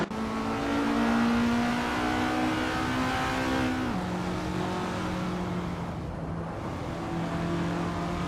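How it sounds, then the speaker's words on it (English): Race car engines in an AI car racing video game hold a steady high drone, dropping pitch as gears shift while the cars accelerate, loud and continuous with no voices. "Hope you're ready to enjoy some exciting AI car racing."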